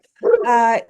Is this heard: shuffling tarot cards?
no